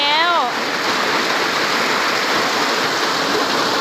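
Heavy rain during a storm in Laos pours down as a loud, dense, unbroken roar of water, close and constant throughout, with a short wavering tone at the very beginning.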